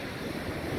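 Surf and gusting wind at Hamsaladeevi beach give a steady, broad rush of breaking waves with low wind rumble on the microphone, continuous and fairly loud with no voices.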